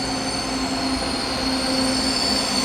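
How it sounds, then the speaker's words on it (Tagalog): A light rail LRT train bound for Recto from Antipolo rumbles steadily past with a high, sustained wheel squeal ringing over the rolling roar, loud and continuous throughout. "That LRT is going to Recto."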